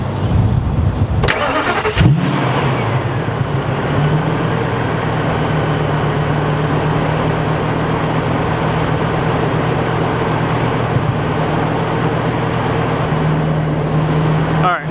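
An RV motorhome engine cranks briefly, catches and then settles into a steady, loud idle that runs on without a break.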